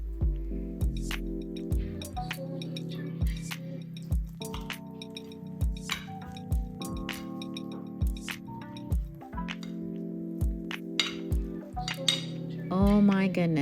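Knife and fork cut through a croque madame on a plate, producing repeated light clinks and scrapes of cutlery against china in a steady, unhurried rhythm.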